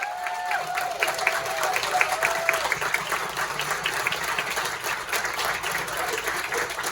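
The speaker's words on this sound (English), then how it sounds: "if you want to just unmute yourself and join us in a round of applause" Participants on a video call unmute and join in a round of applause for a hospital nursing recognition, producing steady overlapping hand claps at moderate loudness with a faint tone running beneath for the first few seconds.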